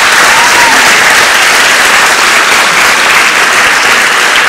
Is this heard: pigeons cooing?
no